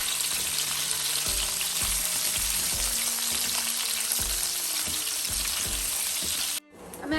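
Vegetables fry in a pan with a steady, loud broadband sizzle that runs unbroken for several seconds, with low thuds of stirring underneath, before cutting off abruptly near the end.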